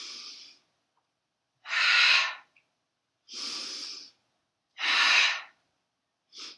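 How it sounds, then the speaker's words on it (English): Forceful warrior breaths during a moderate vinyasa yoga class, loud close rushes of air alternating inhale and exhale in an even rhythm with short silences between. "we'll be adding our warrior breaths here"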